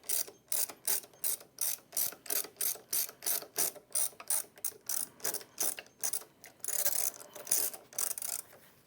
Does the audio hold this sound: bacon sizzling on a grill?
no